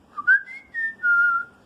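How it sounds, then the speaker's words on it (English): A single human whistle, a short clear tone that slides up and then holds and falls slightly over about a second and a half, close and alone in a quiet room. "It's a whistle"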